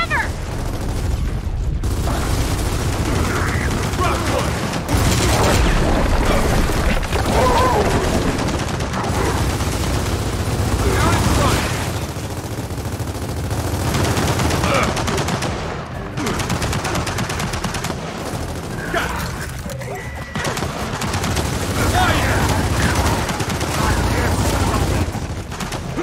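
A turret machine gun in Gears of War 4 fires in long, loud sustained bursts broken by short pauses, with explosions and game voices shouting over the din.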